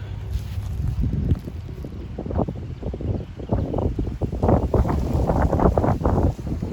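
Gusty wind buffets the microphone outdoors in a rose garden at Edisto Memorial Gardens, Orangeburg, South Carolina, with loud, uneven rushing bursts that swell through the second half.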